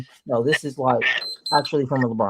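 An electronic alarm gives a couple of short, high-pitched beeps during a basketball news livestream, partly masked by someone talking over it.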